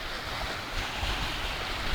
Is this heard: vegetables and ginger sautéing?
no